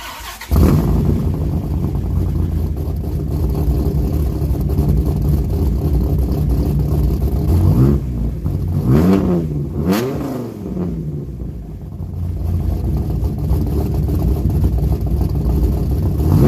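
A 2000 Dodge Viper GTS engine runs loud and close at a steady high idle, then revs sharply in several quick rising-and-falling blips before settling back to a constant rumble.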